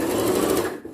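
A sewing machine runs a steady line of stitching along a shirt cuff, a loud, even mechanical whir that slows and drops away at the end.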